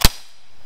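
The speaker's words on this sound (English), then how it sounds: "CO2 pistol." A CO2-powered BB pistol fires a single sharp, close pop right at the start, then near silence with faint room noise.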